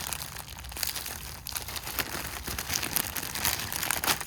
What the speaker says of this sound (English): So everything is in a nice plastic